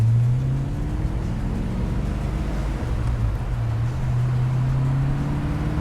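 Steady engine drone of a 7-up Ford Mustang 5.0 with a manual clutch driving on a road, rising in pitch through the gears with brief dips at each shift, loud cabin hum throughout.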